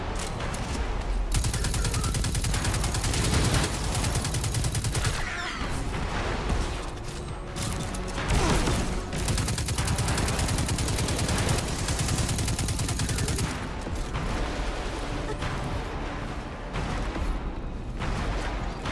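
Sustained gunfire from a Destiny 2 weapon with heavy recoil, rapid bursts of loud automatic shots running almost continuously with brief pauses, up close and dominating the mix.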